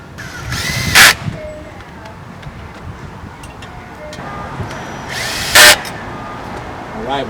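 A power tool drives 5/16 lock nuts down onto a platform rack mount, heard as two short, loud whirring bursts several seconds apart over a quiet background.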